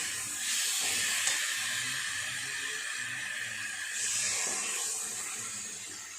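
Water poured into a hot pan of spiced vegetables and fish curry makes a steady, loud hiss and sizzle. It swells twice over several seconds, with no talking.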